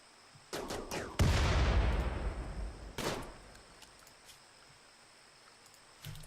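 Gunshots in the colony-management game Rimworld: a few sharp cracks followed by a heavy blast that rumbles and fades, then another shot and scattered faint pops, with quiet gaps between.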